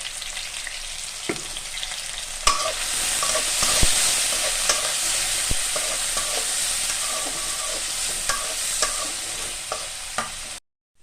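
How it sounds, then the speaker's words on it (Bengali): Potatoes and cauliflower fry in hot oil for a sabudana khichuri, giving a steady, fairly loud sizzle with occasional sharp clicks and stirring knocks that runs nearly the whole time before stopping abruptly. "আলু ফুলকপি ভাজা হয়ে গেছে"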